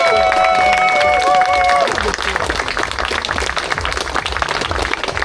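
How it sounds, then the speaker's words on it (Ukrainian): Spectators at a race event clap and cheer for the riders. Dense crowd applause continues under an announcer's voice, which is prominent at first and then fades as the clapping carries on. "Оплески цим чудовим дівчатам"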